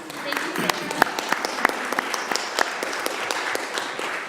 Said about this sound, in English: I think a round of applause for Sarah.